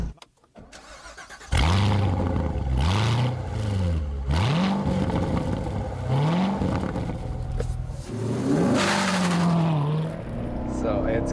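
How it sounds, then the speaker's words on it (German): A Chevrolet Corvette C1 with a V8 engine roars on a country road, revving up through repeated gear changes, loud and close, with someone speaking German over it. "dieser Sound, diese Akustik, das kann nur ein 8-Zylinder"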